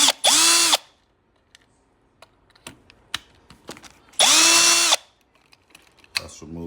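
A power drill removes screws from a Segway GT2 electric scooter: two long, loud whirring bursts of the motor, separated by quieter clicks and handling noises close by.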